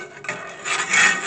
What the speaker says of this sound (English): Sorry for the noise, but I gotta scrub.